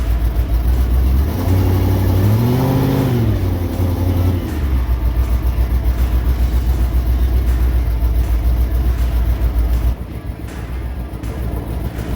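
A 1968 Pontiac Firebird with a Pontiac 301 engine idles and revs loudly at close range, one rev rising and falling early on. An exhaust leak adds a ticking, and the engine drone holds steady throughout.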